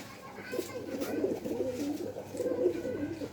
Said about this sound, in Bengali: এই যে একবারে ছোট্ট কবুতর, বুড়ো এবং ছোট্ট